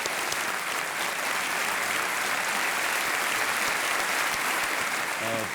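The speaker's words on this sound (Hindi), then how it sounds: "यहाँ एक बार ताली बजाएं उनके लिए" Studio audience of the Indian quiz show Kaun Banega Crorepati applauding a guest, a loud, sustained, even roar of many hands clapping with no break.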